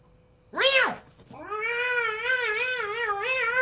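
A house cat meows twice: a short rising-falling cry, then a longer, wavering, drawn-out meow that carries on steadily to the end, close and fairly loud with no other sounds.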